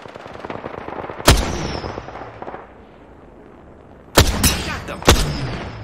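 Gunfire in a video game, three sharp loud shots ringing out at separated moments over a busy game soundscape, with a quieter stretch between.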